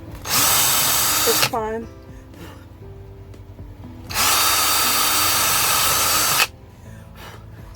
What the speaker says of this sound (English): after I drilled my holes in each box, just on one side, 3 of them